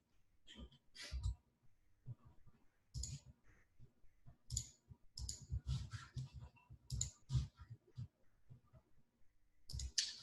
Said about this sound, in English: Several people typing still.